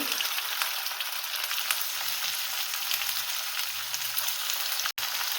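Potatoes and onions fry steadily in a pan, giving a continuous, even sizzle that stays close and fairly loud and cuts out for a moment near the end. No one speaks.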